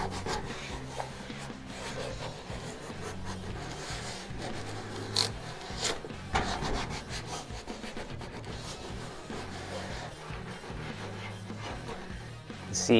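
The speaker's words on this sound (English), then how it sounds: "So I just want to rub this, make sure that it's as tight as it can be." Tape being rubbed down firmly over a car's fender lip while making a flexible shape pattern, a steady close scratchy rubbing that runs throughout with brief louder swipes and no talking.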